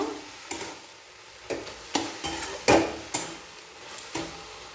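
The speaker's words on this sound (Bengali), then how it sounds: "এরপর খুব ভালোভাবে নাড়াচাড়া করে নেব" A spatula stirs chicken with mayonnaise in a pan for chicken rolls. Repeated scraping strokes land at irregular intervals over a light sizzle, close and fairly crisp, with no one speaking.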